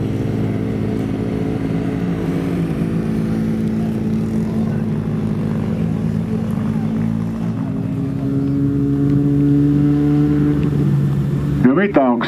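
Rallycross cars roar around a dirt track at a Finnish off-road race in Inkeroinen, a loud, steady engine drone with pitch shifts as cars pass, under continuous announcer commentary.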